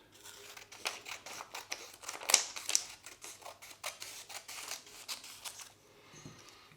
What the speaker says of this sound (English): I'm going to take my scissors and cut these roughly in thirds